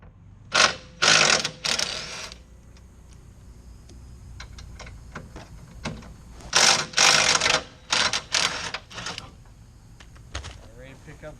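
Bolts come off a Ford F250 bumper in bursts of close, rapid mechanical rattling from a power tool, several short runs separated by pauses, with faint background noise between them.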